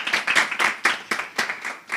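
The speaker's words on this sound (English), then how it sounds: "A round of applause" Applause for a speaker at a conference technical session on aviation and shipping fuels, a small audience clapping in loose bursts, fairly close and moderately loud.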